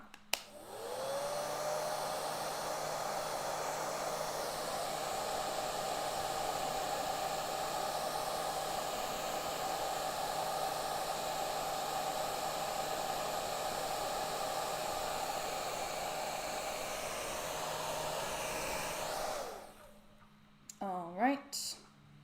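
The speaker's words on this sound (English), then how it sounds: "hairdryer is turning on." A hair dryer whirs loudly and steadily for most of the clip, then switches off, leaving brief quiet clatter at the end.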